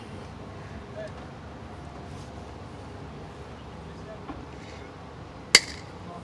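A GearWrench wire cutter bites through thick vinyl-coated wire with one sharp, crisp snap, heard against low background noise and a voice talking.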